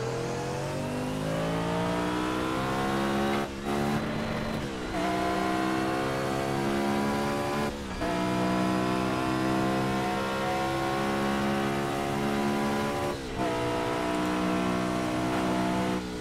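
A car engine revs hard in the racing game Project Cars, a loud, close, rising whine that climbs through the gears, with brief dips at each shift.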